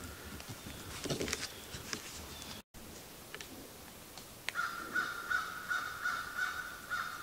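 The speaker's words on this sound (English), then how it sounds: "Getting yelled at by crows." Crows caw in a forest, a few harsh calls at moderate distance over quiet woodland ambience, followed by a faint repeated chirping tick near the end.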